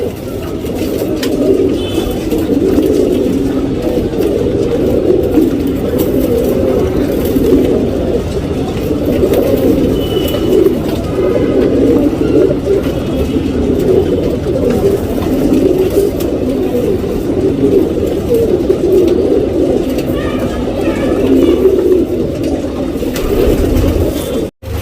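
Racing pigeons readied for a tournament coo continuously and closely, their low, throaty calls overlapping in a steady murmur, with a faint engine-like rumble underneath.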